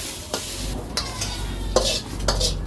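Onions frying in oil in a kadai, stirred with a spatula that scrapes the pan in about four distinct strokes over a steady close-up sizzle.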